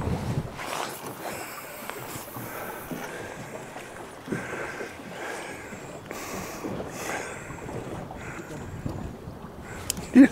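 A boat moves across open water, wind buffeting the microphone over a steady wash of hull and spray noise, with a faint voice in the background and a sharp knock near the end.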